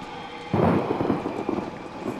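Thunder from lightning in the horror game Outlast rolls in suddenly as a loud low rumble, with rain under it, then fades to a fainter grumble.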